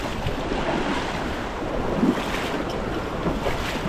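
A strong, rushing river current gives a loud, steady broadband roar with some wind buffeting on the microphone. No voices.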